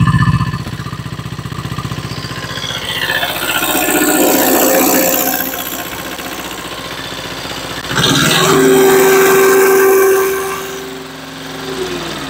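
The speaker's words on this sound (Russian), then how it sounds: "как работает трактор, как работает двигатель" A Yanmar YM1300D two-cylinder Japanese mini tractor engine runs steadily close to the microphone, a continuous mechanical drone that swells louder in two stretches with a whining tone entering midway, no talking.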